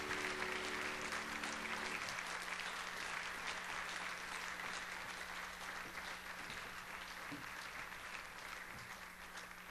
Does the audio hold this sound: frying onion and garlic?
no